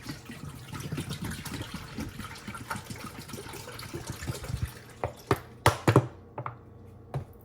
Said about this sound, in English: I'm just gonna dump in all of our milk.